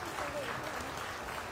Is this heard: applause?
yes